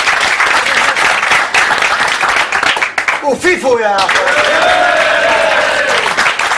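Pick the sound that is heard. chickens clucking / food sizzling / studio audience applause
studio audience applause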